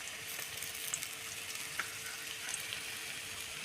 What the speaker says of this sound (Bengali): তারপর দিয়ে দেবো আদা বাটা।